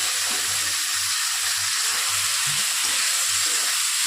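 Tomato, ginger, cumin and green chilli paste frying in a pan for a Bengali fish curry, a steady broad sizzle with faint low scraping and stirring pulses beneath, close and continuous.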